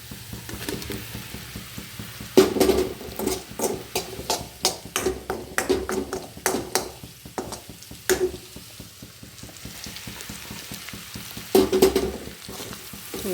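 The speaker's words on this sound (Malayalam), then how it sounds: "നമ്മുടെ കൂർക്ക ഇതിലേക്ക് ഇട്ട് കൊടുക്കുക" Chinese potatoes (koorkka), salted beforehand, stir-fried in a pan with fennel seeds for a Kerala mezhukkupuratti, with repeated sharp scraping and stirring clatters over a soft steady sizzle, close up and with no talking.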